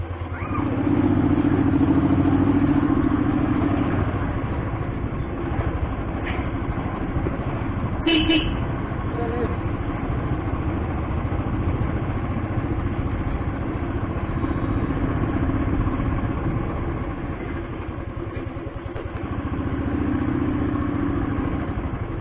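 A Royal Enfield motorcycle ridden slowly on a road, its low steady engine thrum running throughout with wind noise, a brief horn toot and passing traffic, and a rider talking over it.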